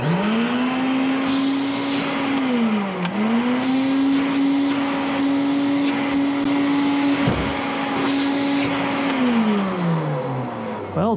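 An Electrolux Olympia Special Edition 1453 vacuum cleaner runs after repair, its motor giving a loud, steady whine with brief dips in pitch and a final wind-down near the end.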